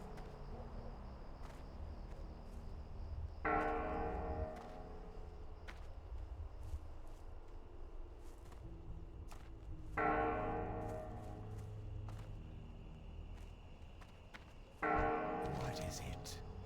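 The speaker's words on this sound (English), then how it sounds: "Bells going off." Church bells toll in World of Warcraft during low-level Horde questing on a hardcore server, three separate bell strikes spaced a few seconds apart, each ringing out and fading under steady game ambience.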